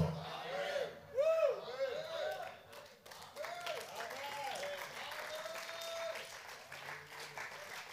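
Church congregation applauding at an online service, a broad steady wash of clapping that swells early and holds, with voices and a preacher's tones mixed underneath.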